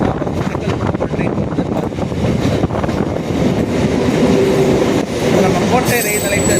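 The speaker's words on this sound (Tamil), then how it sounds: "Tambaram train, தாம்பரப்பூர் train," MRTS commuter train bound for Tambaram in Chennai, rumbling loudly and steadily throughout with rail and wheel noise, a brief squeal near the end, and wind buffeting the microphone.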